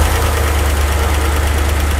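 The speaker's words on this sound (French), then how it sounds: "Le bruit de soupape, pour ceux qui ne savent pas, c'est le clic" A 1957 Ford Thunderbird engine idles close by with a heavy low rumble and a fast, regular valve-ticking pulse running through it.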